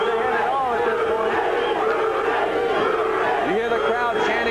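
Boxing arena crowd at a hometown fight, a loud dense roar of many voices with rising rhythmic chanting of a fighter's name, continuous and close throughout.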